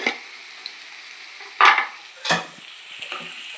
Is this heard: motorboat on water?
no